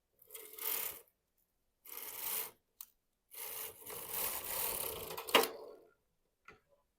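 A knitting machine carriage sweeps across a row of stitches on a swatch set to stitch size 6, making several loud rasping, whirring passes separated by silent pauses, with a sharp click near the end.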